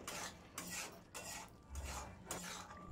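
A spoon scrapes and stirs jackfruit seed and potato curry in a pan, repeated rasping strokes roughly every half second, quiet and close, with no talking.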